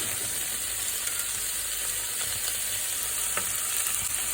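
Yacon stir fry sizzles steadily in a hot pan with shrimp paste added, a dense continuous frying hiss with faint stirring scrapes and no talking.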